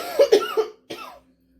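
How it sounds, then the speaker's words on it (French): Three quick coughs close together, a short pause, then one more cough from someone with a cold, loud and close with no talking. "j'ai encore la crève, c'est pour ça que je fais que tousser"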